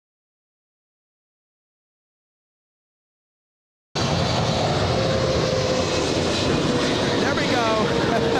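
Philippine Airlines Boeing 777 with GE90 jet engines arriving at Los Angeles International Airport, a loud sustained jet roar that starts abruptly and holds steady, with a brief voice speaking over it.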